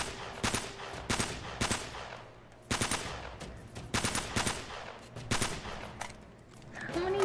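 Gunshots in Uncharted: Drake's Fortune, a series of loud, separate cracks spaced about a second apart, each with a short echoing tail.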